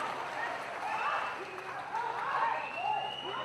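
A crowd applauds steadily at a traditional wrestling bout held at a temple fair, a continuous wash of clapping and cheering under someone talking loudly over it.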